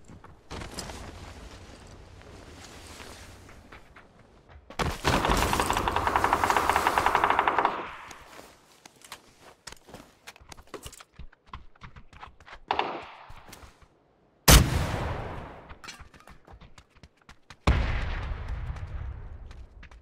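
Gunfire in PUBG: repeated sharp shots and short bursts crack out in irregular clusters, some loud and close, others quieter and more distant, with gaps of near silence between them.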